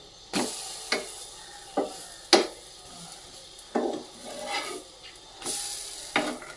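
A banana pancake cooks in butter on a griddle, a low fry running underneath as a spatula clacks and scrapes against the pan in several sharp, scattered knocks during the flip.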